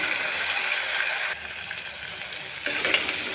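Chopped tomatoes sauté in a pan for sambar rice, giving a loud continuous hiss and crackle of frying with a short lull midway as the spoon stirs before the sizzle swells again.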